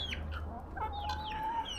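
Chickens and a guinea fowl feeding together at a garden feeder, with soft clucks and short bird calls close by over a low steady background hum.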